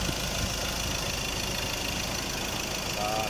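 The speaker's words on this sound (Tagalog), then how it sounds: "hindi na mabibrate yung kanyang makina" A Ford Ranger 2.2 L pickup truck engine, with a replaced engine support, idles steadily and evenly at close range, a constant low hum with no talking.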